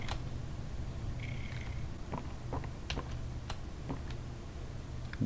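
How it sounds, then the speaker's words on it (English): A cat purrs in the video game Poppy Playtime Chapter 3: a steady, rumbling low purr runs throughout, overlaid by scattered faint ticking and clicking sounds from the game. "Bro's a cat purring."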